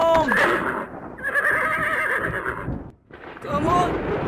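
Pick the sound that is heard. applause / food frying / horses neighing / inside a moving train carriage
horses neighing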